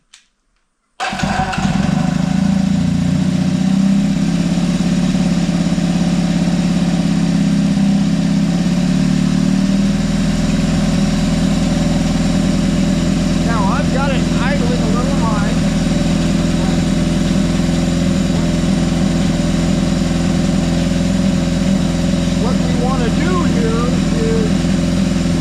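A carbureted engine being set up for carburetor synchronization fires up after a brief pause, then idles loudly and evenly for a long stretch with a steady, slightly pulsing drone.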